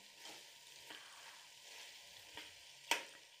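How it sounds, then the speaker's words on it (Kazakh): Carrots fry in a pan over already browned meat for a Kazakh palau, a faint soft sizzle with a brief clatter near the end. "Жақсылап қуырылғаннан кейін үстіне сәбізін осылай салып қуыратын"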